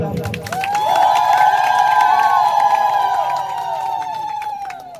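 An audience at a folk theatre award ceremony claps and cheers together, with a sustained whooping voice riding over the clapping. The sound is loud and continuous for several seconds.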